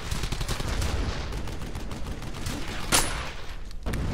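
Machine gun fire in the WWII shooter Brothers in Arms: Hell's Highway clatters in steady, overlapping bursts of mid-distance gunfire, with one sharp, louder crack standing out near the end.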